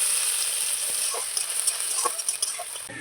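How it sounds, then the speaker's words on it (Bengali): Onions sizzle and fry in a kadai for a fish roe chop curry, a steady soft hiss with small intermittent crackles and stirring clicks, no talking. "চপের তরকারিটা করার জন্য প্রথমে কড়াইতে আমি পেঁয়াজ দিয়ে দেব"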